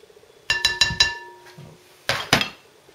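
Butter going into sugar in a mixing bowl while making a Greek New Year's vasilopita cake: a quick run of sharp, close clinks and knocks against the bowl, a pause, then two louder clattering hits, with no talking.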